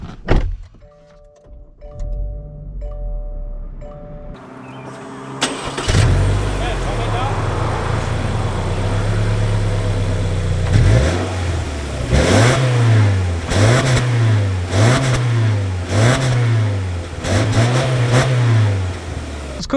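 A 2021 Subaru Outback starts up and drives off. The engine turns over with a quick crank and then settles into a steady run, followed by repeated rising and falling revs as it pulls away and shifts, loud and close from inside.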